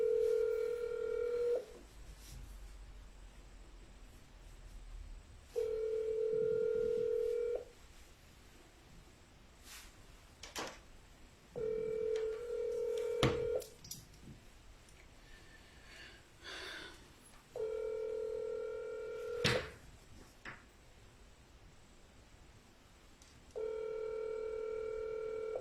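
Telephone call ringing unanswered during a livestream, a repeated tone pulsing in steady rings about every six seconds over a low hiss, with brief clicks and rustles between rings and no one picking up.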